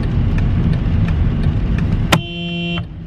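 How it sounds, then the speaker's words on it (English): A car passes close by on a road, a loud steady roar of traffic, then a brief horn-like tone sounds before fading out. "This guy's driving on the wrong side of the road."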